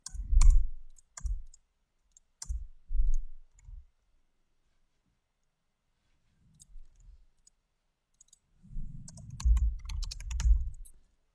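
Bursts of close computer-keyboard typing, quick clusters of key clicks separated by quiet pauses, ending in a longer run of keystrokes.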